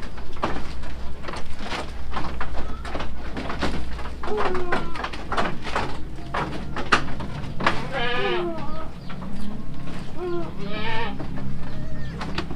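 Goats on a farm bleating repeatedly, close and loud, over a continuous rustling and chewing backdrop, with birds calling faintly and a voice murmuring in the background.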